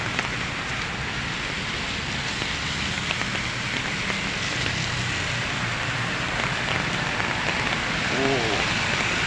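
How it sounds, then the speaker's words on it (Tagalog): Steady, dense hiss of heavy rain pouring down continuously, close and loud, with no voices. "Oh, sobrang lakas ng ulan."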